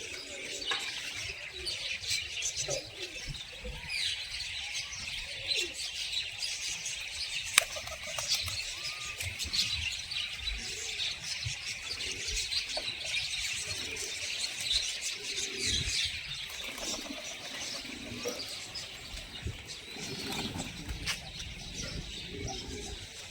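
Pigeons at their loft, soft cooing and scattered chirps from several birds, faint and continuous over a low background hum, with no voices.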